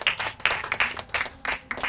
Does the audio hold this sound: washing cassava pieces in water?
no